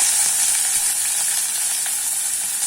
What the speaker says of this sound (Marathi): कांदा भाजत आला आहे. त्याच्यामध्ये जिरं मोहरी टाकते.